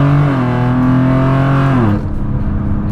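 A BMW M4 converted into a pickup truck drives through corners on Continental tires, its engine holding a loud steady drone before the pitch drops as it lifts off, with no talk.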